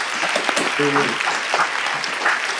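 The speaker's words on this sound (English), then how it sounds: "let's give our district governors a nice big round of applause for a job well done" A group applauds district governors, a brief dense burst of clapping heard close by, with a voice talking over it.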